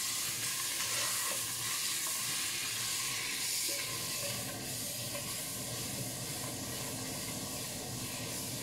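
A good spoonful of butter sizzles steadily in a pan while being cooked to caramelize for a Portuguese Christmas chicken soup, with a constant even hiss and no talking.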